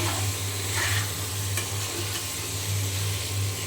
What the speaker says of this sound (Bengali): এখন আলু দিয়ে আবার খুব ভালো করে নেড়ে ফেড়ে কষিয়ে নেবো